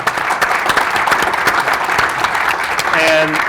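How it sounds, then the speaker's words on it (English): A conference audience claps steadily for a panel after a session on 4K standards, a dense, even round of applause filling the room up close. "I want to have a round of applause for the panelists."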